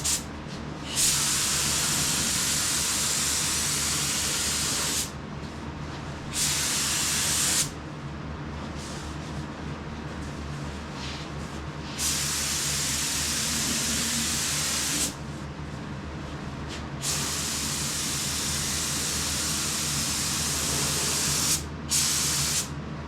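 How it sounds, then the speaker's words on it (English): An HVLP spray gun sprays paint in long steady hissing bursts, the first coat on a Datsun 280z, loud and close, with brief quiet gaps between passes. "So now this is actual paint. Let's see if it sprays any different than primer."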